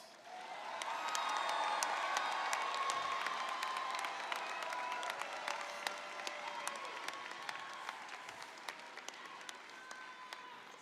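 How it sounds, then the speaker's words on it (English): A commencement audience at USC Upstate's December 2023 ceremony applauds the graduates with a long, full round of clapping and some cheering. It swells early, then slowly thins and tapers over about eleven seconds, with crisp individual claps standing out near the end. "Let's give our graduates another round of applause."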